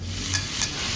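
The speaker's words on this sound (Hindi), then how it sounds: "इसके साथ में पलटते हुए चलाएंगे, जिससे कि नमक इसमें अच्छी तरह से मिक्स हो जाए" Potatoes being turned and stirred in a hot pan with salt, a steady close sizzle with two soft scrapes of the spatula in one second.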